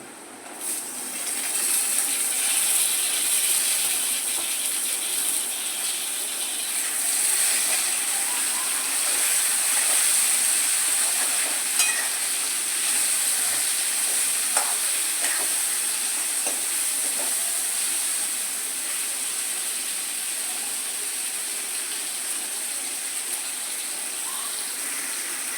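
Tomatoes sizzling in a pan over already cooked onions for a Maharashtrian mutton curry, a steady bright frying hiss holding at an even level throughout with no talk.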